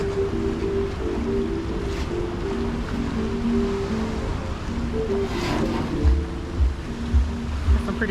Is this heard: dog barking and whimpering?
no